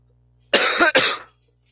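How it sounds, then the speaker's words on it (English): A person coughs twice in quick succession, close and loud, a harsh burst followed by a second slightly longer one, with near silence before and after. "every time I cough, I know it kills headphone users."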